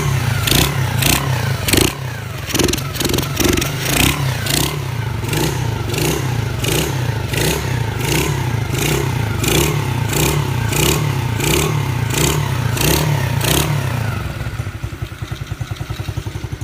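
SSR SR70c pit bike's small engine starting and revving close by, repeated sharp throttle blips in a steady pulsing rhythm over a buzzing idle, then settling to a rough idle at the end.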